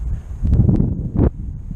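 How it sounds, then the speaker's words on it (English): Low, rumbling wind buffets the microphone in uneven gusts on the Annapolis River, with a louder burst near the end and no voices. "The wind still hasn't decided to give up yet."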